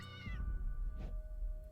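A cat in the game Impostor Factory gives a single short meow at the start, close and clear, over a low steady ambient hum.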